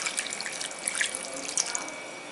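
Water is poured into a pot for mutton bone soup, about two to two and a half glasses. It makes a steady, splashing gush with small irregular spatters throughout.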